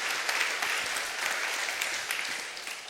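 An audience claps throughout a talk event with a speechwriter, a dense steady wash of hand claps that slowly tapers off.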